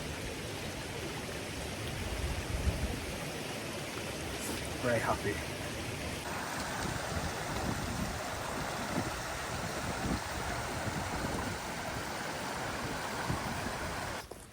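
Mountain stream flowing on a wild camp in the Peak District, a steady close rush and babble of water running continuously, with a person talking over it.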